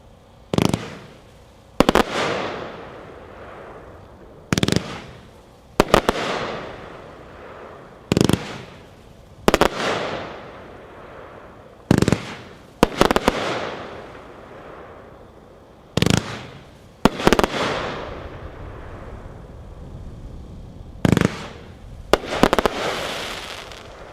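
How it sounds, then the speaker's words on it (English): Mindhunter by Epic, a 36-shot firework cake, fires a long series of loud sharp bursts at irregular intervals outdoors, each report trailing off in a crackling, hissing decay. "Number 10, Mindhunter by Epic, packed 4-1, 36 shots."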